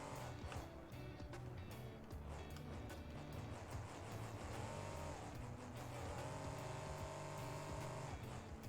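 Gravedigger monster truck engine in BeamNG.drive, revving steadily under game racing noise with rising and falling throttle pitches, a continuous loud roar through the whole stretch.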